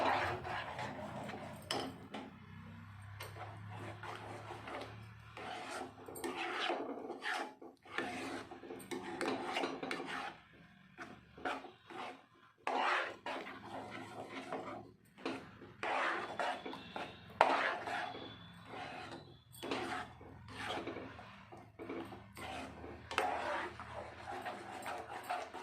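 Papaya halwa being stirred and fried in a pan, a steady rasping scrape of spoon against metal with irregular strokes continuing throughout, close and moderately loud, no voices.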